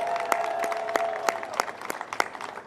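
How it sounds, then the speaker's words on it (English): Crowd at the opening of a Buc-ee's store in Goodyear, Arizona, clapping for city employees, a sparse scattered applause with distinct individual claps over a faint tonal background. "let's get a round of applause for our city employees"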